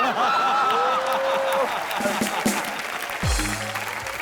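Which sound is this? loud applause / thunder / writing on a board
loud applause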